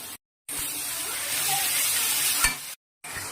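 Tomato paste sautéing in a pan for a Bengali duck egg curry, a steady sizzle with soft stirring scrapes, broken by brief silent gaps at the start and near the end.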